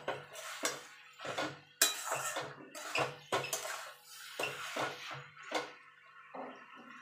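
Boiled, drained banana flower stirred in a pan with a metal spoon, a run of close scraping and clinking strokes in uneven bursts against near silence, no voices.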